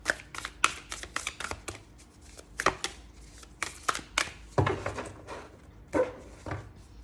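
Tarot cards being shuffled by hand, a run of crisp riffling and slapping bursts of varying strength, close and fairly loud, with no talking.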